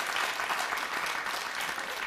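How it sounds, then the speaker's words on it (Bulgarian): An audience applauds at a Bulgarian TV show, a dense, even clatter of many hands that holds steady for a couple of seconds, moderately far and fairly quiet. "Чувам аплодисменти."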